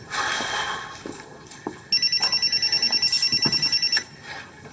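A cell phone rings indoors, its electronic ringtone starting partway through as a rapid, steady train of bright repeated trills that continues loudly for about two seconds before cutting off, with faint room noise and footsteps beforehand.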